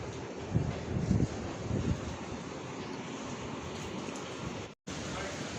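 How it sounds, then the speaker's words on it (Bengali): Strong wind from Cyclone Remal in Bangladesh roars in a continuous rush with gusty surges that buffet the microphone. The sound cuts out for a moment near the end. "অসম্ভব বাতাস"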